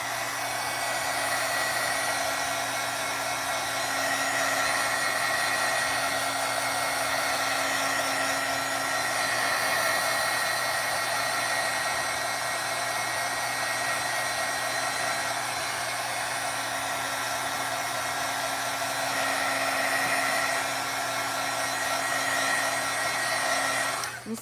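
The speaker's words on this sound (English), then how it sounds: "now we're going to take our heat tool and we're going to dry some more" A heat tool blows steadily to dry Versamark ink on glossy cardstock, a continuous close whirring hiss that holds even for the full stretch with no talking.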